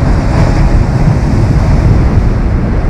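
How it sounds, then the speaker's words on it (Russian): Sea surf from a winter storm at Lazarevskoye on the Black Sea coast washes against an eroding shore, a loud continuous roar with heavy wind buffeting the microphone and no voices. "Ну а море постепенно подмывает вот эту вот часть"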